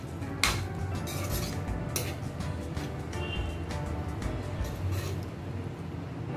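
Tomatoes are stirred into cauliflower curry in a pan: a spoon knocks and scrapes against metal, with one sharp clink near the start and quieter clatter after, over a low frying hiss and no talk.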